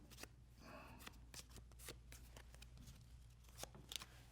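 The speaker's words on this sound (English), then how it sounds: "let me shuffle the cards" A deck of playing cards being shuffled in quick, crisp bursts of riffling and snapping, quiet and close with brief pauses between.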